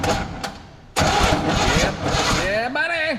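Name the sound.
Chevy C20 truck engine starting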